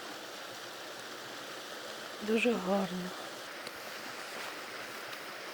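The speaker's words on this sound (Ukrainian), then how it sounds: "Тут вода просто шурує." The Sopit waterfall in winter rushes with a steady, broad roar of falling water throughout, while a person speaks briefly over it.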